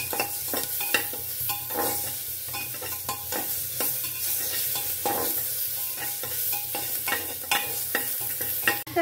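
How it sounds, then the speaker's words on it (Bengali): Chopped onion and tomato stir-fry in hot oil for a ridge gourd sabzi, a continuous close sizzle with rapid, frequent scraping and clattering of a spatula against the pan and no speech. "কুচানো পেঁয়াজ দিয়ে নাড়াচাড়া করে ভেজে নেওয়ার পর আমি এর মধ্যে অ্যাড করে দেব টমেটো কুচিটা"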